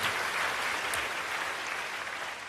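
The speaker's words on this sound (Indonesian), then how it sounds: "Kasih tepuk tangan bagi Tuhan" A church congregation at a Sunday service applauds steadily, a continuous wash of clapping at moderate distance, fairly even throughout with no speech over it.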